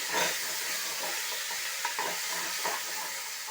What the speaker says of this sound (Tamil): கூடவே இந்த கட் பண்ணி வச்ச தக்காளியை சேர்த்துடலாம். நல்லா வதக்கி விட்டுருங்க.